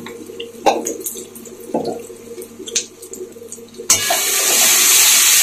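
Water pours into a pan of salted spice masala with garam masala for an egg and cauliflower curry, a loud sudden splash and rushing sizzle near the end after a few scattered kitchen clinks and taps.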